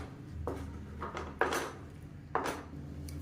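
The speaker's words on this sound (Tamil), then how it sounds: "இது வந்து நல்லா கிளறி விட்டுக்கலாம்." A spoon stirs a sweet syrup mixture in a pan, making four scattered scraping clinks against the metal at an unhurried pace, moderately close, with no talking.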